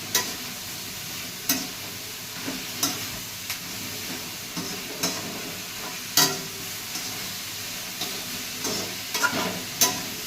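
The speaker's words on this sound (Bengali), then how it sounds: "এইভাবে কিছুক্ষণ নাড়াচাড়া করতে হবে" Paneer being stirred in a dry pan with no oil, a soft continuous sizzle punctuated by sharp utensil scrapes and clicks against the pan every second or so, quiet and close, without speech.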